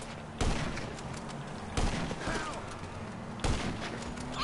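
A sniper rifle fires in a video game, three sharp, loud shots spaced well apart, each trailing into a short decay over a busy game background.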